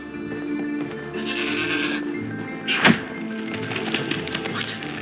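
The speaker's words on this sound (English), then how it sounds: "What an amazing goat!" A goat in the Trine video game gives a short bleat amid ambient game sounds, followed by a sharp thunk; moderately loud and close, with no talking.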